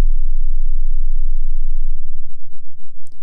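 A 30 Hz sub oscillator tone from the Synth1 software synthesizer, a steady deep low hum holding alone for about three seconds before slowing into a throbbing pulse, with a brief click at the end.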